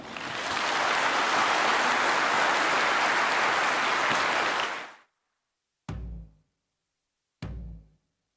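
An audience applauds Prime Minister Narendra Modi at the Aditya Birla Group golden jubilee celebration in Bangkok, a dense, loud wash of clapping for about five seconds that stops abruptly, followed by two short, heavy thuds.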